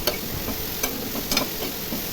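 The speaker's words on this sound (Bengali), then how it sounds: "ছোট ছোট টুকরো করে কেটে রাখা এঁচড়গুলো নুন হলুদ দিয়ে ভালো করে ভেজে নিচ্ছি" Small chopped pieces of jackfruit frying in oil with salt and turmeric, a steady close sizzle with a few light stirring taps and scrapes, no voices.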